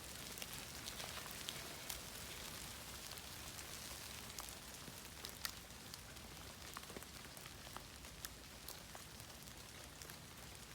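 Rain patters steadily on surfaces outdoors while a campfire is being built, a dense even hiss with scattered sharper droplet ticks throughout, fairly quiet and with no voices.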